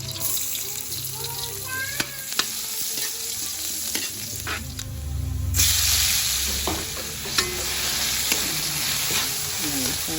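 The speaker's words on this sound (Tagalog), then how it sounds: "So, let's cook our ampalaya." Sliced ampalaya (bitter gourd) is stir-fried in a pan, giving a continuous sizzle with scraping stirs and clinks of a utensil, a surge of louder frying midway, and running tap water nearby.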